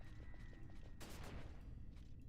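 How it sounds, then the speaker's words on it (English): An explosion trap in Final Fantasy XII goes off with one abrupt, bright burst that quickly decays, rising over a low background bed of game sound. "Oh no, it's an explosion trap."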